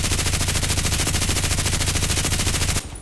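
Sustained machine gun fire in the online shooter Contract Wars, a loud, rapid unbroken stream of shots that cuts off abruptly near the end.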